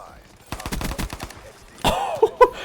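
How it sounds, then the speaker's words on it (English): A pistol fired extremely fast like a submachine gun in a shooter game, a crisp rapid string of about ten close shots, then a pause followed by a few louder, heavier hits. "We're shooting a pistol like it's an SMG."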